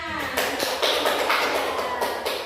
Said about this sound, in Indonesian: beri aplaus untuk teman-temannya